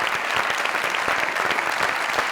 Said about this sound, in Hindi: जोरदार तालियां बशीर लोहार साहब के लिए